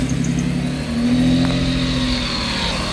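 The small engine of a Honda Beat bought in Japan runs close by, a steady idle that rises briefly in pitch and then settles, loud and even with no talk over it.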